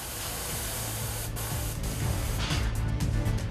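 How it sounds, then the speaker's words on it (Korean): Spray gun hissing steadily as paint is applied to freshly injection-molded plastic toy parts on a factory painting line, a continuous close airy rush with brief pulses, and no talking. "스프레이 작업인데요"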